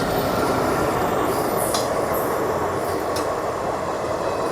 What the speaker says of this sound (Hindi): सामने आई है आज़ाद हिंद एक्सप्रेस पुणे टू हावड़ा।